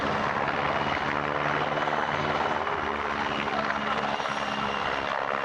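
A PZL Swidnik W-3 Sokol, a Polish-built helicopter, at an outdoor airshow in Pardubice; a loud, dense rotor and turbine roar holds steady throughout, close by and with no talk over it.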